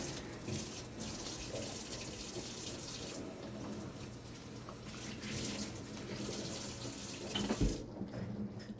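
Homemade tomato sauce made from fresh tomatoes bubbles and simmers in a pot, a continuous close, soft churning hiss with faint pops, no talking over it.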